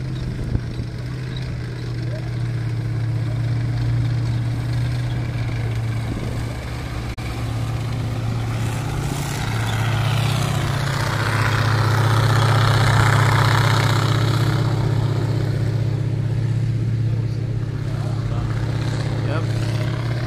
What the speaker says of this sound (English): Yeah, V8 petrol engine.